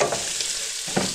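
Rice goes into a pan of frying fatty pork, with a loud, constant sizzle and a few stirring scrapes up close and no talking.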